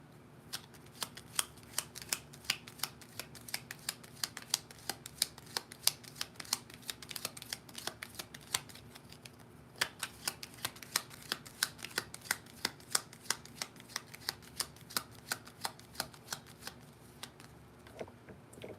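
Tarot cards being shuffled by hand, a long run of crisp, rapid riffling clicks and snaps that come close and fairly loud, in quick bursts with brief pauses, without speech.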